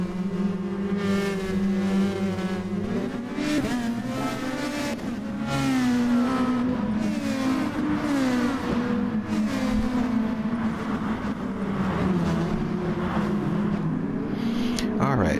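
Race car engines in a racing video game roar and rev at a race start, rising and falling pitch with gear changes, a close loud engine with a commentator talking over it.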